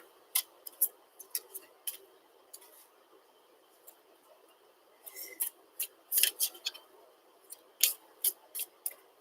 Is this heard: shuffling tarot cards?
yes